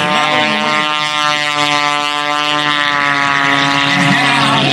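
Aerobatic propeller airplane with a nearly 330 horsepower engine at an air show, a loud steady engine drone with a strong harmonic hum, held throughout and slowly shifting in pitch as it passes.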